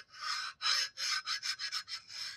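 Edges of the vane slots in a Masport HXL series vacuum pump rotor being deburred by hand: about eight quick, close, raspy scraping strokes, the later ones shorter and faster, with quiet pauses between them.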